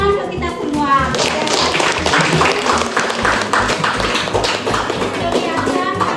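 Audience clapping at a classroom teacher-training session in Indonesia: dense, sustained applause from a group of people, steady and fairly loud throughout, with a few children's voices mixed in.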